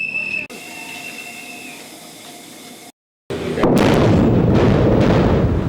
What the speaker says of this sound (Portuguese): A explosão é como uma pancada seca no mundo ao nosso redor.